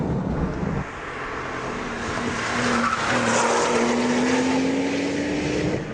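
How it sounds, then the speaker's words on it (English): A twin-turbo car with a manual gearbox pulls hard in fourth gear, its engine note a steady rising drone under strong road and wind roar, loud and close from inside the cabin. "it's got twin turbos, which give it so much torque. I mean, we're in 4th gear now"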